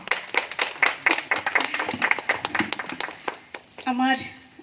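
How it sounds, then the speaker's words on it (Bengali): An audience claps loudly in a burst of applause for several seconds at an event honouring Netaji. The clapping then fades, and a voice is heard at the end. "কার্পণ্য করবেন না, একটু জোরে করতালি হয়ে যাক না।"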